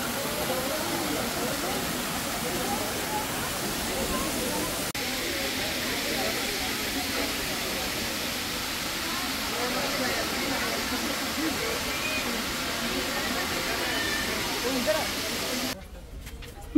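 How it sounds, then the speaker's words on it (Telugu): Waterfall at the Rock Garden in Chandigarh, a steady broad rushing hiss that lasts almost the whole stretch and cuts off near the end, with voices talking over it. "ఇది బాగుంది వాటర్ ఫాల్స్"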